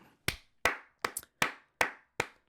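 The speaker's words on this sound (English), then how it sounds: "I have to clap it up just one more time." Six sharp hand claps from one person, close and fairly loud, spaced about every third of a second with a quick double clap in the middle, celebrating an FC Barcelona win over Real Madrid.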